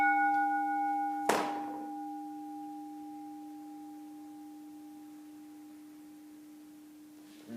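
A single strike of an electric Westinghouse bell rings out with a sharp attack, then a long sustained tone that slowly decays with lingering reverberation.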